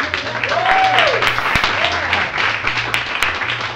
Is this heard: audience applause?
yes